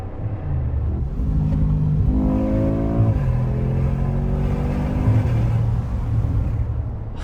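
The V8 engine of a 2025 Mercedes G63 SUV revs hard and close, a deep throaty roar rising in pitch, dropping, then climbing again before easing into a rumbling idle.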